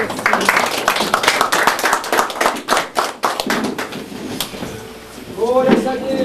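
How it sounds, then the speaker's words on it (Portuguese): Church congregation applauding in steady rhythmic hand claps, fairly close and dense, fading out toward the end as a voice speaks over it. "Pode se assentar glorificando o Senhor com as palmas."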